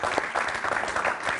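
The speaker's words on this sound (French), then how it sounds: "on applaudit très très fort notre juge du public" Studio audience on an Algerian television show clapping for a public judge, a short, dense burst of steady applause from a crowd.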